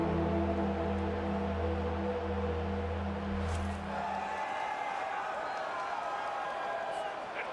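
An EA College Football video game stadium crowd roars as a steady, far-off wash of cheering that carries on under the game's music.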